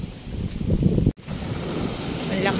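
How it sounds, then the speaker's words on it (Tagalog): Strong wind buffets the microphone along a seaside boulevard in Legazpi, a steady loud roar with surf underneath and one brief dropout partway through. "Sobrang hangin,"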